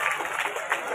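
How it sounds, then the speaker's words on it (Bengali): An audience at a high school event claps together in a quick, busy burst, fairly loud and close, with some crowd noise mixed in. "জোরে জোরে সোরে হাততালি"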